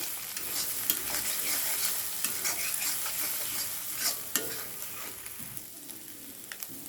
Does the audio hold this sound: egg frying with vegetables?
yes